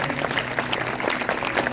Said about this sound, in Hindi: अगर आई है तो जोरदार तालियां बजाएंगे